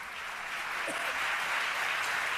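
Applause fills the Catalan Parliament chamber as a steady, even wash of many hands clapping, held at a distance for the whole stretch with no break.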